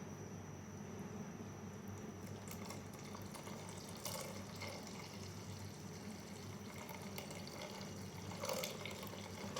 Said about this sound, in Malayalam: ഈ ശർക്കര പാനി നമുക്ക് അരിച്ചൊഴിക്കാം